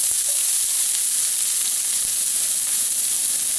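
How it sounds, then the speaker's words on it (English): Julienned onions sautéing in smoking-hot truffle-flavored olive oil, a dense, even sizzle and hiss filling the clip from start to finish, close and steady with no talk. "Julienne onions go in,"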